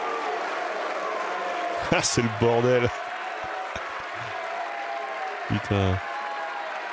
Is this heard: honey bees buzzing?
no